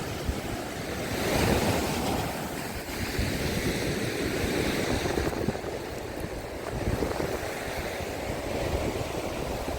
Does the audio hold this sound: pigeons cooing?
no